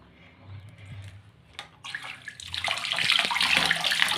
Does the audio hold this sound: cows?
no